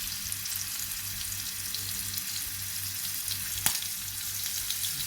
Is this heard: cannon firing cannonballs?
no